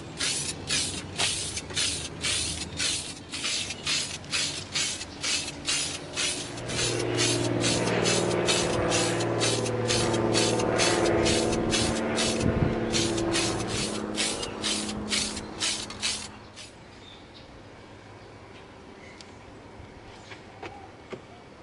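Short bursts of satin nickel spray paint hiss in a rapid, repeated rhythm onto an EVA foam knife, then a longer continuous spray with a low hum under it, ending in quiet.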